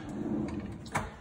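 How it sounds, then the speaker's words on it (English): A kitchen drawer in a fitted kitchen slides along its runners with a low rumble, ending in a short soft bump, quiet and close with no talking. "You've got these fancy drawers which come out."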